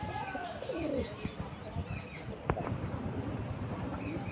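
A pigeon coos softly in a low, repeating rhythm, with faint chirps and light rustling around it in a quiet, close space.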